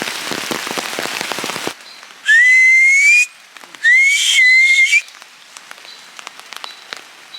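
Rain falls hard in the Amazon rainforest as a dense hiss for about two seconds. Two sliding whistled tones follow, and scattered drips fill the quieter stretch afterward.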